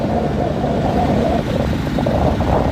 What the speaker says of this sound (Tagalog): Grabing haba ng traffic.